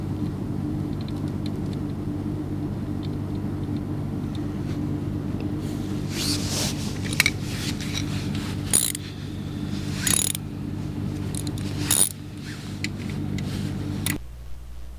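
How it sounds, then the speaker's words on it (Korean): A bolt is tightened after fitting the clutch cable on a Hyosung Comet GT250 motorcycle: metallic clicks and clanks with short ratcheting bursts over a steady low engine-like hum, ending abruptly. "이 볼트를 다시 조여줍니다"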